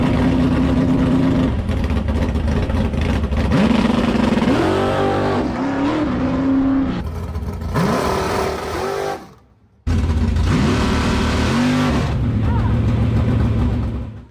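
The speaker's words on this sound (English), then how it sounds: "I'll throw in 2 clips right here of a normal sound on the two-step" A drag race car sitting on its two-step launch limiter, the engine held at high revs in harsh, crackling bursts, cutting briefly to near silence before another loud run on the limiter.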